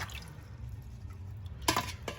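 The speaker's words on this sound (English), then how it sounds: "Gotta empty the water out." Water drips and splashes as a cat water fountain is emptied, soft low sloshing with a couple of brief sharper splashes near the end.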